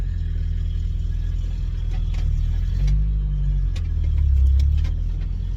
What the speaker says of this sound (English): So we're gonna try starting back to the street in 2-wheel reverse.